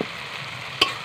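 Chicken in a pan with cumin paste and coriander powder, cooked over a clay stove, giving a soft steady sizzle and one quick scrape of a stirring spoon.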